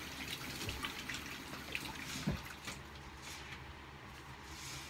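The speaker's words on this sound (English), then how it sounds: "Rinse my hands off." Tap water runs steadily into a kitchen sink while hands are rinsed after making homemade butter, a soft continuous splash with a few small drips and knocks, quiet and fairly close.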